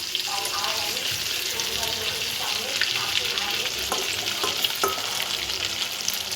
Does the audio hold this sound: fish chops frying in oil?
yes